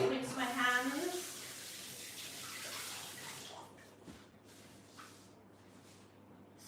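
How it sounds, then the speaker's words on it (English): Tap water runs into a kitchen sink as hands are rinsed while butter chicken is cooked at home. A voice speaks over the steady rush for the first few seconds, then the flow stops and the room goes quiet. "Just going to rinse my hands."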